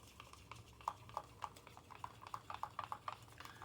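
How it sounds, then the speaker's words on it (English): Spoon stirring a thick fake cake mixture in a bowl, a steady run of close scraping clicks and taps growing busier toward the end, with no talking. "So I'm going to stir this up, as you can see."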